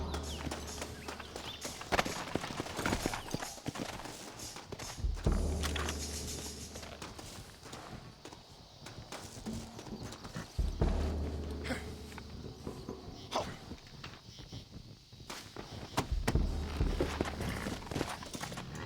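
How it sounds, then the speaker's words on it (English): Video game horses' hooves clatter in uneven trotting rhythm alongside rustling movement, with several horses moving at once, fairly close and continuous throughout. "Looks like Carlos left us some horses."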